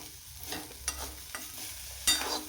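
Pieces of bitter gourd for a dry vegetable dish are turned and stir-fried on a hot iron griddle, with a soft sizzle under a few sharp spatula scrapes that come at irregular intervals, close up and without talk.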